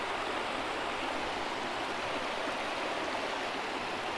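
A creek in a Blue Mountains sandstone ecosystem flows with a steady, close, broadband rush of water, unbroken and even throughout, with no voices.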